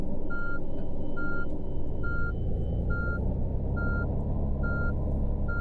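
A tourist bus in Tourist Bus Simulator, a video game, idles with a steady low engine rumble while a reversing beeper sounds evenly about once per second throughout, loud and close, with no talking.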